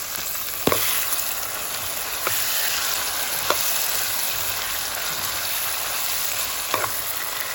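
Steady, loud sizzling of pork belly and long beans stir-frying in red curry paste in a hot wok, with a few sharp metallic scrapes of a spatula at irregular intervals.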